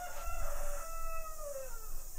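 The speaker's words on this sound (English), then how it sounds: "All day, no rooster, and now rooster, since I push record again." Rooster crowing nearby outdoors, one long drawn-out cock-a-doodle-doo call that falls in pitch, heard over low background noise.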